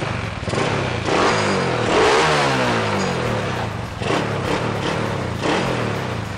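Yamaha Mio scooter-type motorcycle with a race-built engine revving up and dropping back as the throttle is pressed and released several times, loud and close with no talk over it.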